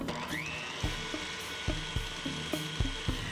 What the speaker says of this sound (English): Mix on low.